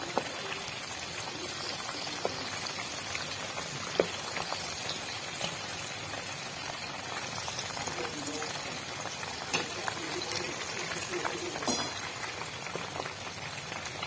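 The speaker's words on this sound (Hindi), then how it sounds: "मीडियम फ्लेम पे इसे करीबन 8 से 10 मिनट लग जाते हैं फ्राई होने में" Chicken tikka pieces fry in a pan over a medium flame in a steady, close, crackling sizzle with scattered pops and small bursts, heard alone throughout.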